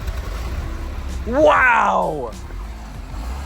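A car engine fitted with a new exhaust runs as a steady low rumble, with one person's loud exclamation rising briefly over it.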